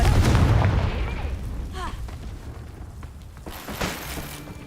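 Fiery spell blast in the video game Hogwarts Legacy, a loud booming explosion at the start that fades into a rumbling tail, followed by softer crackles and a smaller later burst.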